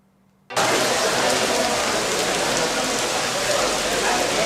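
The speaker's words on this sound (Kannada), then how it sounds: "ಧೂ ಅಂತ ಸುರಿತಾ ಇದ್ರು, ಚಿಟಪಟ ಅಂತ ಮಳೆ ಹಿಡಿದುಕೊಂಡಿದೆ" Heavy rain pours down in Bengaluru, starting abruptly and holding as a dense, steady, loud wash of drops with no talking over it.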